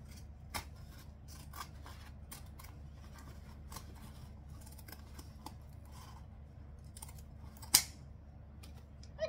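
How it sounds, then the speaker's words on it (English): Zigzag scissors trim excess fabric for a sewing project: quiet, scattered snips and crisp cuts at irregular intervals, close by, with one sharper snip near the end over a soft background hum. "let's trim off this excess. You don't have to use zigzag scissors, but I love them."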